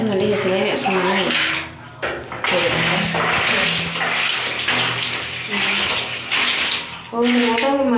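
Water is poured and splashed across a tiled bathroom during cleaning, with bursts of gushing and spattering broken by short pauses, and a person speaks briefly between pours.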